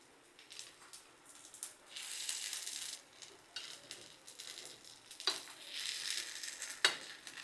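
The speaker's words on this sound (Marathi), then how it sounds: "वरून थोडंसं तेल घालूया आणि यांना उलटून घेऊ" Spinach and semolina appe frying in oil in an appe pan: a soft, fairly faint crackling sizzle that swells and fades, with a couple of light metallic clicks.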